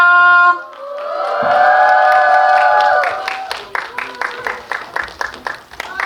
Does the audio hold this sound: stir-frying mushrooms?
no